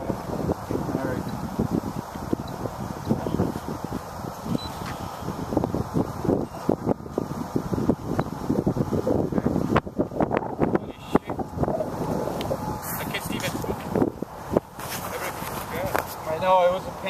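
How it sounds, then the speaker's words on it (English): Strong wind buffets the microphone at a model airplane flying field where a Hobby Lobby 6-foot Telemaster is being prepared, a steady rumbling roar with gusty surges under intermittent talking. "It's too windy, huh?"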